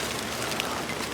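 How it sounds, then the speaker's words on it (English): Rain falls outdoors in a vegetable garden of Egyptian walking onions, a steady soft hiss of drops filling the brief moment with no voices. "It's raining"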